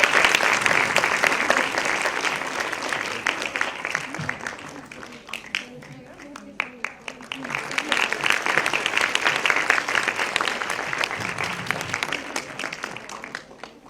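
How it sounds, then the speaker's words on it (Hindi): Loud sustained applause fills an indoor hall at an award ceremony, dense clapping dipping briefly midway before swelling again, with speech faintly mixed in. "तालियों की गड़गड़ाहट से हॉल गूंजता रहे"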